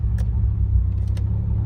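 A Nissan 180SX engine idles steadily with a low, even rumble, close and loud throughout, with a couple of faint clicks on top and no speech.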